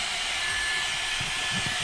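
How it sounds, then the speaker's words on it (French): A Levoit LVAC 200 cordless stick vacuum runs steadily inside a car, drawing dirt and pet hair from the carpet with a constant close, loud whining hiss that holds level throughout. "C'est la première fois que j'ai un aspirateur qui aspire autant dans ma voiture."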